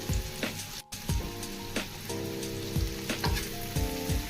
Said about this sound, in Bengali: এটাকে জাস্ট নেড়ে চেড়ে ভেজে নেব।